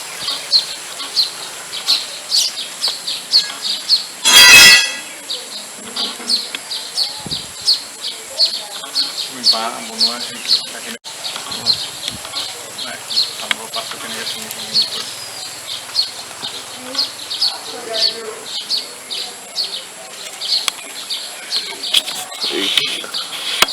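A nesting colony of baya weaver birds chirps among areca palms in Assam. A dense, continuous chatter of high tweets carries on throughout, with one loud thump near the start and faint voices at times.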